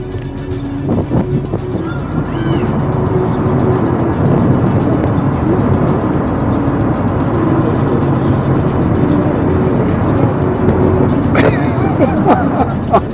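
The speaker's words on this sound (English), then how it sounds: "as the other vehicles were coming off the ferry" Cars and other vehicles rolling off the Cape May-Lewes ferry, a steady close rumble of engines and tires with a passing swell near the end and faint voices in the background.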